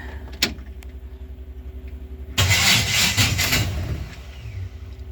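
A 1950 Studebaker's starter, known to need repair, cranks with a low steady churn when the ignition key is turned. A louder, rough burst of mechanical noise rises midway, then fades back to a low rumble.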